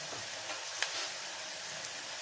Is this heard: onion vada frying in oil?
yes